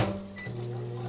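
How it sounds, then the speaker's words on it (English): Water is poured into a cooking pot with a steady, close liquid gurgle whose pitch rises briefly as the pot fills, lasting about a second. "I'll put a little bit of water in here."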